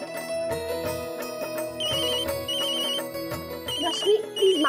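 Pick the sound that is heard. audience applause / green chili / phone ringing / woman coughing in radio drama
phone ringing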